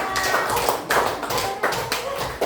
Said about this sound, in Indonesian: Oke, tepuk tangan lagi untuk kelompok 2